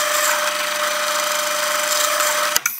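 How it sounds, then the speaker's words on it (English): Power drill boring a hole through wood with a 15/64 bit, a steady continuous whirring grind held close and loud for nearly three seconds, then stopping with a couple of brief knocks at the end. "so then I'll drill this through"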